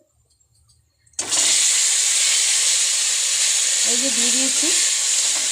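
Taro greens drop into hot oil tempered with bay leaf, dried red chilli and whole cumin, setting off a sudden loud sizzle that holds steady and hissing; a voice briefly speaks just before and over it.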